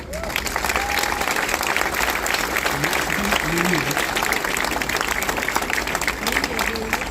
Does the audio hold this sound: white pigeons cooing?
no